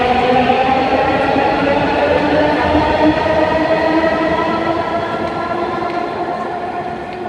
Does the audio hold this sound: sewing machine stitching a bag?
no